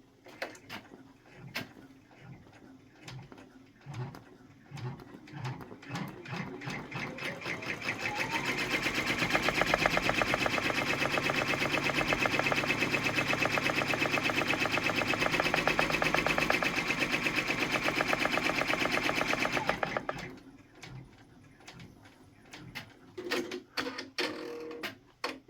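Brother PR1055X embroidery machine stitching a brown pleather keychain: a loud, steady rapid needle chatter runs for about ten seconds, with quieter clicks and handling before and after.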